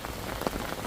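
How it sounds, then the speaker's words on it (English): Steady rain pattering on a surface beside a river during a bream feeder-fishing session, a continuous close hiss of drops with no talk. "It's raining."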